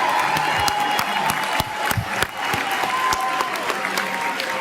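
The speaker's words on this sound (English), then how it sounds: "let's give a round of applause for our fathers." A crowd at a commencement ceremony applauds the fathers on stage with sustained, dense clapping and a few cheers, loud and continuous throughout.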